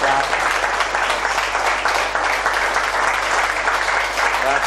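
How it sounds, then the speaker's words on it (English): A Buddhist Sangha group clapping together, a dense, steady burst of applause lasting several seconds with no talking. "let us give all ourselves clap and all the Sangha clap."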